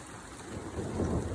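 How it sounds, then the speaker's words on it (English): Rain falls with rolling thunder during an April thunder-snow storm, a faint, brief wash of noise with a low rumble swelling toward the end. "Thunder and lightning storm and a snowstorm all coming together here"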